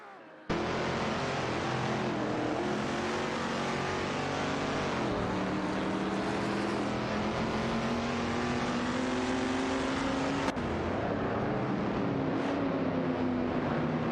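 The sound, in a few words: race cars, Ferrari and Lincoln Continental, in a racing video game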